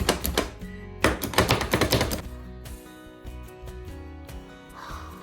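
A Pampered Chef food chopper is struck again and again onto onions, giving a quick run of sharp, close chopping clacks that trail off into a quieter stretch with lingering clatter.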